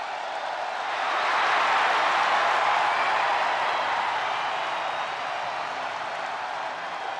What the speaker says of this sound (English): Listen to this ovation.